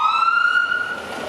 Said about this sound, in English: Don't startle me with your loud siren.